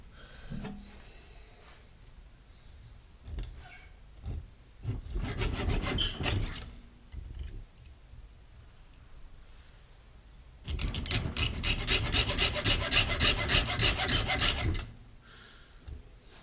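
Rasping, scraping strokes of sanding wood, first a short bout of rubbing, then a longer steady stretch of rapid back-and-forth abrasion, close and fairly loud.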